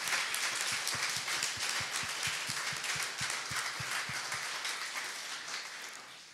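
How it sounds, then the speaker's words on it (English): Audience applauding demo day teams presenting hardware product prototypes, a sustained wash of clapping with a rhythmic low thumping underneath, slowly tapering off toward the end. "So maybe give them a big round of applause for really doing real demos"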